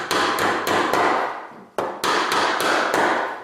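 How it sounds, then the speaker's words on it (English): A hammer drives nails through nail straps onto 2x4 studs while a three-way light switch is being wired. About ten sharp, close blows land in a steady rhythm, with a short pause partway through. "Now we're going to take our hammer and our nail straps."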